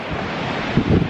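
A chilly westerly wind blows straight in off the ocean onto a beach. Steady, loud wind roar buffets the microphone, with waves surging underneath and swelling toward the end.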